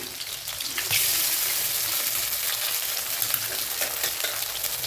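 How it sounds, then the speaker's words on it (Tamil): Two eggs cracked into oil at the edge of a pan for street-style chicken rice, spitting and sizzling in a loud, dense, continuous crackle close by. "இந்த ஆயில் இந்த எக்கை உடச்சிக்கிறேங்க"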